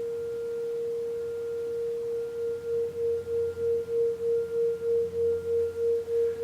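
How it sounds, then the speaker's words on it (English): Pure sine tones hold steady at one pitch, then a third tone joins and the sound swells and dips in a regular pulsing beat, about one throb per half second. "if you introduce a third sine tone, then you can start to create more complex beat patterns"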